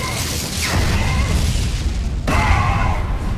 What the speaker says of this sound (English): Don't look at the explosion.